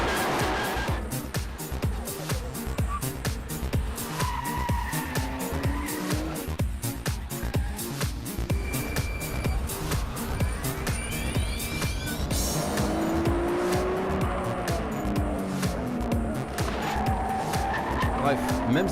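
Nissan Skyline GT-R R34 NISMO Z-Tune with titanium exhaust driven hard on a mountain road, loud engine roar rising and falling through gear changes, mixed with tire squeal and skidding, under continuous talk.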